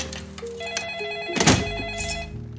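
A home telephone rings in a film scene, an electronic ringtone repeating under a soft thud of movement as someone picks it up, with quiet room ambience.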